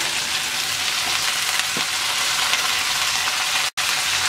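Chopped tomato and snake gourd sizzle steadily in a pan of fried onion and garlic, a constant close hiss with a brief stir sound and a short cut near the end.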